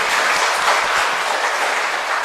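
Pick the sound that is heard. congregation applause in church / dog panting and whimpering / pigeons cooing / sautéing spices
congregation applause in church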